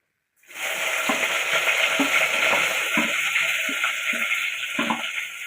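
Crushed onion, garlic and ginger drop into hot oil for crab rasam and set off a sudden loud sizzle that stays strong and constant, with light stirring clicks underneath.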